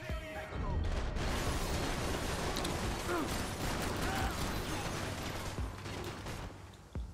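Sustained gunfire in Max Payne 3 rattles on almost without a break for about seven seconds. Dense bursts and crashes fill the mix, and a voice is faintly mixed in.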